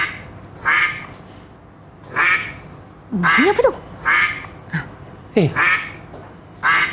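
A duck quacks in short bursts, several loud calls spaced out with pauses, while a person briefly speaks between them.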